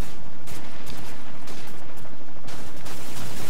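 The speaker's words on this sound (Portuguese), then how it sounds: "É o helicóptero que tá me atirando." Dense, continuous gunfire from an attacking helicopter in the video game Call of Duty 4, loud and close, with sustained bursts blending into a harsh roar throughout.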